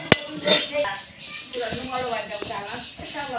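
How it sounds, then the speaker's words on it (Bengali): Spiced potato filling is scraped from a pan into a bowl, giving a sharp metallic clink at the start followed by softer scraping and clattering utensil sounds, with a person talking over it. "এখন একটা বাটিতে আমি এই পুরটা নামিয়ে নেব"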